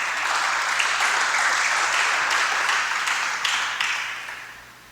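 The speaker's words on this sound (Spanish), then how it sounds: "Dele palmas fuertes al Señor." A church congregation claps loudly and steadily in praise during a Spanish-language sermon, a dense wash of many hands sustained for several seconds before it starts to taper off.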